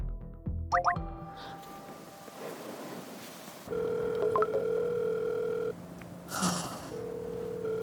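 A telephone rings in a quiet home, with dial-tone and ringback beeps and electronic tones in steady bursts, some clicks and a short rustle in between, no talk.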